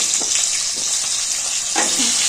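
Boiled drumsticks fry in a pan of hot oil with mustard seeds for Chennai-style sambar, making a loud, continuous sizzle with soft stirring and shifting sounds underneath.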